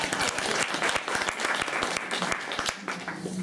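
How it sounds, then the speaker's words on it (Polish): Audience applause at a movie poster exhibition, a steady burst of dense clapping from a gathered crowd, close and continuous throughout. "Też oklaski"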